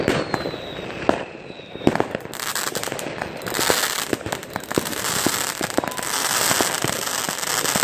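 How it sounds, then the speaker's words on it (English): Consumer fireworks bought as one cheap set go off outdoors on New Year's Eve in a German village, a dense run of sharp bangs and crackles with faint whistles at the start, some nearer, others more distant. "And this is all out of one thing of fireworks we bought"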